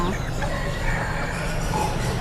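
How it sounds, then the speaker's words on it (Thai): A giant Brahma chicken clucks at a poultry market in Ban Pong, Ratchaburi, its calls rising over steady crowd and market bustle. "ไก่ยักษ์บามา ไก่ยักษ์บาม่า ค่ะ"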